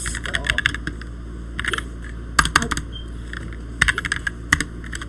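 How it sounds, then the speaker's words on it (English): Close computer keyboard typing of a terminal command on a Linux machine, bursts of quick clicky keystrokes separated by short pauses, over a low steady hum. "we type in now sudo apt install"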